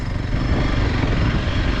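A motorcycle engine drones steadily on a ride toward Jaubari on the Sandakphu route, a loud, close, continuous rumble with no break and no talk.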